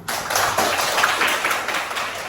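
A university class bursts into dense, steady applause, many hands clapping together at close range for a couple of seconds.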